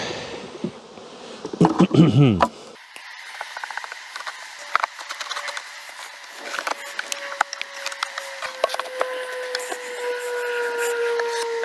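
Honeybees hum around an open hive colony during queen work, a steady drone with a rising higher whine, mixed with wooden frame knocks and scrapes at the start.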